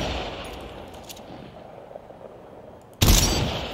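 A single sharp, loud gunshot bursts in near the end of the Vampire the Masquerade Bloodhunt gameplay, following a low ambient stretch, and its tail fades gradually.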